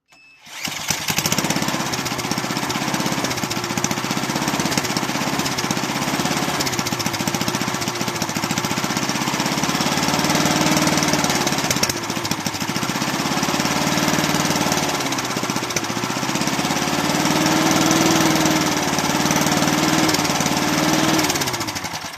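A Bolens Husky 18 push mower's small engine runs loud and close without a break, holding a rough, steady drone with a few slight rises and dips as it revs higher.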